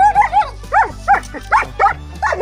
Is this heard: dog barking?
yes